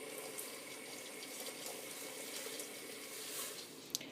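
Vegetable stock, about a litre and a half, is poured into a pan of low-fat mushroom soup, making a steady, soft splashing pour that runs continuously at a quiet level, close by and heard alone.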